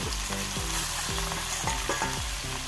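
Mackerel pieces fry in oil in a pan, a steady close sizzle and crackle broken by a few soft repeated scraping or stirring knocks, with no talking.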